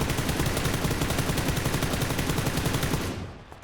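Automatic assault rifle fired from the hip with no laser sight in PUBG, a loud, rapid, steady burst of gunshots lasting about three seconds before cutting off.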